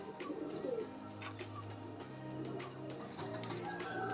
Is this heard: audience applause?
no